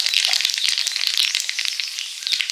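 Hot oil sizzles and crackles steadily in a pan while spicy fish curry with drumsticks gets underway, a dense, bright frying hiss that holds close and fairly loud without pause.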